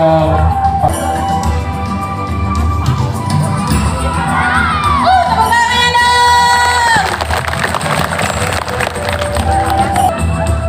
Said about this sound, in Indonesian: Ya, tepuk tangannya mana?